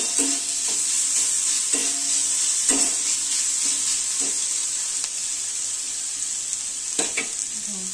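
Chicken seasoned with salt and turmeric fries in a pan with a steady bright sizzle, and a few soft stirring clicks and scrapes are heard now and then. No one speaks.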